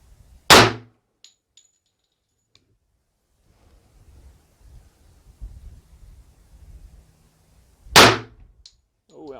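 Two sharp, loud gunshots ring out several seconds apart, each a 45 ACP pistol firing an ARX Inceptor 118 gr bullet on a range, with quiet rustling between them.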